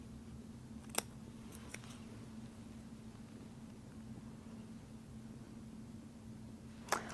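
Double shears with bent handles cutting: a few faint, sharp snips spaced apart over a low steady hum in a quiet room.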